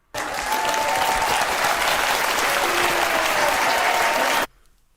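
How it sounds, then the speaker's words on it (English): Recorded applause from a clap-on-demand button plays loud and steady as a dense, even wash of many hands clapping, then cuts off abruptly after about four seconds. "That's the sound of you clapping yourselves."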